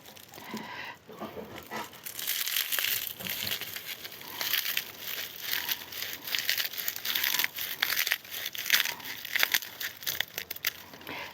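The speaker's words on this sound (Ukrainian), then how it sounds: "я просто зрізала ножицями, бо воно все сухеньке і гарно зрізається" Scissors snip through dry straw while a Didukh, a Ukrainian Christmas wheat sheaf decoration, is trimmed. Crisp crunching and crinkling cuts go on steadily for about eleven seconds at close range, with no talking.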